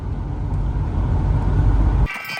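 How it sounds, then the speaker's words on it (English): Fast traffic on a roadside sweeps past close by, a loud, dense rush of engine and tire noise lasting about two seconds before cutting off abruptly. "The horses are accustomed to speeding traffic zooming by, sometimes within only a couple of meters."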